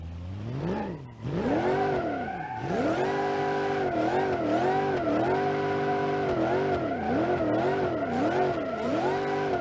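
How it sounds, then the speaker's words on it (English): A modified car in BeamNG.drive revving hard, its exhaust note sweeping up and down through repeated throttle blips, with a rough edge of crackles and pops, loud and close with no talking. "Yeah, crackles and pops now."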